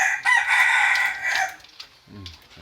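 A large rooster crows loudly and close by, one drawn-out cock-a-doodle-doo followed by quieter low clucking, with faint talk in the background.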